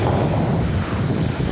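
Surf rolls in at a beach, heard as a loud, continuous rush of waves mixed with heavy wind buffeting the microphone.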